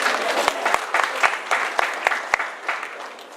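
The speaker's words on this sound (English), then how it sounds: "since they keep clapping over it" Audience applause at a high school student awards ceremony, a steady wash of clapping with a few sharp individual claps standing out, loud and continuous across the short stretch.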